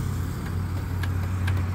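Starter cranking on a seized 160 motorcycle engine that fails to catch, a steady low mechanical drone held close and fairly loud throughout, with no talking over it.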